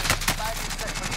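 Rapid automatic gunfire in Call of Duty Warzone, a dense burst of shots filling the whole moment, loud and close.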